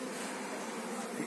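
Honey bees hum around a hive just after two colonies were merged, a dense, continuous buzz from many insects close by with no voices.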